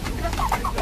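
Hens of the KUB chicken breed clucking in a backyard coop after feeding, a few soft, short calls close by over a steady background murmur.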